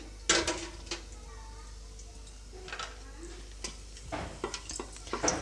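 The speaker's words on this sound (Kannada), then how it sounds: "ಮಸಾಲೆ ಒಂದು ಒಂದು ಸೆಕೆಂಡ್ ಅಥವಾ ಎರಡು ಸೆಕೆಂಡ್ ಚೆನ್ನಾಗಿ ಒಂದು ಸ್ವಲ್ಪ ಫ್ರೈ ಆಗಲಿ" Cardamom, cloves, star anise and cinnamon frying in hot oil in a pressure cooker, a faint low sizzle broken by several light clinks and stirring taps, quiet and close.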